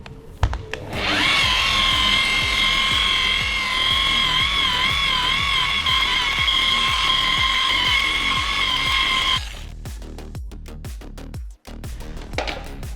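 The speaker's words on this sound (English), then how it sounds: "when I'm going to be polishing the DA right now" A dual action polisher runs steadily on car paint for about eight seconds, holding a sustained whining motor tone with a faint wobble and a rumbling rotation beneath, then switches off, leaving scattered handling clatter and a brief restart near the end.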